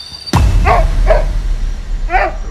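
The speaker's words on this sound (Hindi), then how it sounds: "तो ये बहुत देर से भौंक रहा है" A pet dog barks outdoors in a village near the jungle of Jim Corbett, giving a sharp bark followed by a few short yips, close and loud over steady background noise.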